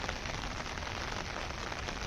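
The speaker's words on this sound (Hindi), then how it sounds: "देखिए कितनी तेज़ बारिश लगी हुई है।" Heavy monsoon rain pours steadily onto surfaces near a temporary shed, a dense, constant hiss that fills the whole moment without pause, heard alone with no voices.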